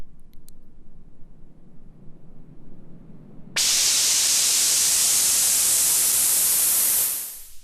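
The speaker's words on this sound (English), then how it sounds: "This is a white noise filter sweep." Quiet near-silence gives way abruptly to a loud, bright rush of white noise, a synthesized filter sweep, that holds steady for several seconds, then thins and fades at the end.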